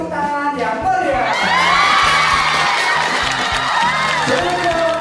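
A large outdoor crowd cheers, whoops and shouts loudly and continuously at an Indonesian National Armed Forces anniversary fun walk, with children's high shouts mixed in.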